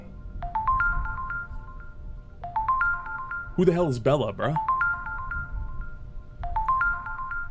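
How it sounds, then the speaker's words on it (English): A phone ringtone in a video game repeats a short rising melodic jingle several times at a steady, clear level, briefly interrupted by a person speaking over it in the middle. "Pick up the phone!"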